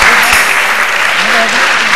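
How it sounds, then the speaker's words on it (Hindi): Studio audience at a Ramadan religious quiz show clapping for a contestant's correct answer; dense, loud applause runs continuously for the short stretch. "बहुत सी तालियां बजाई इनके लिए"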